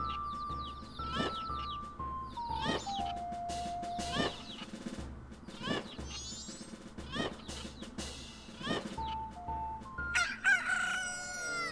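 Several roosters crow one after another in bursts, loud and close, with clucking and bright electronic chimes between them, in the video game Majora's Mask.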